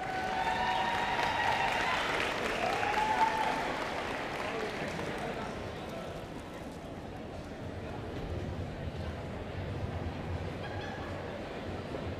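Audience at a school athletics banquet applauding in a room, a dense, steady wash of clapping that swells early and then settles to an even level for about twelve seconds.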